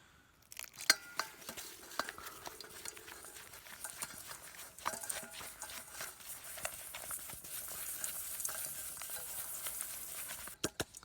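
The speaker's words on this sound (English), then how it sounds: "Keep mixing that in. Try to keep your mixture wet in the center and the dry stuff on the outside of the bowl." A wooden stick scraping and knocking around a bowl of bannock dough with brown sugar, giving scattered close clicks and taps with soft rubbing in between.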